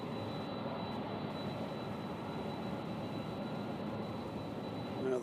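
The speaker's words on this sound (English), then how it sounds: "Embraer coming in from Dallas." An Embraer jet flies in to land at Louisville airport, a faint, distant, steady roar that holds even throughout and swells slightly at the very end, with no talking.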